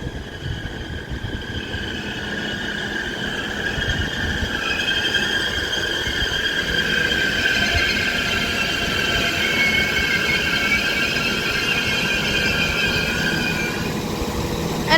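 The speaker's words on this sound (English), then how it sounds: "this 197 is now arriving in with the 1350 Transport for Wales service to Chester in the form of 197020" A Transport for Wales Class 197 diesel multiple unit pulls into Liverpool South Parkway station on the West Coast Main Line. A steady, loud rumble runs under a sustained high wheel squeal and brake hiss until it settles near the end.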